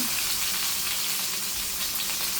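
Pot roast searing in a hot pan, giving a steady, close, unbroken sizzle and crackle of browning meat, loud and continuous with no voices.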